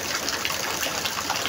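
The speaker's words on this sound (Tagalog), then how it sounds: "Kasi sobrang lakas na naman po" Heavy rain at night pouring down in a steady, dense hiss and gush, loud and close with water splashing and filling a bucket.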